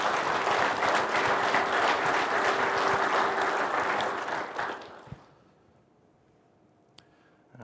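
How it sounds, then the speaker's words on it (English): A keynote audience at a conference breaks into a full round of applause, dense and steady clapping that fades out after about five seconds into near quiet with a couple of stray taps. "So can I get a round of applause for GPS Insight for last night's mixer?"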